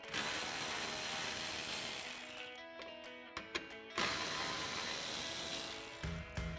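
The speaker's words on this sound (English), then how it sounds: "So we'll just go ahead and take those out with our 10 millimeter socket." A ratchet with a 10 mm socket backs out headlight bolts on a 2009-2014 Ford F-150, a steady close clicking run that pauses briefly and then resumes.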